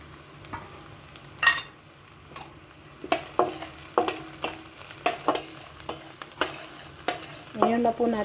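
Garlic frying quietly in a pan while a spatula strikes and scrapes the metal in a regular series of sharp clinks, close and fairly soft over a faint sizzle, with no one speaking.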